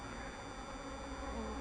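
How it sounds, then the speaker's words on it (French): Bees at an apiary hive in Crosne hum in a dense, continuous buzz, close and steady, with several insects droning together and no talk over them. "Pas mal d'abeilles là qui ont pas compris comment sortir."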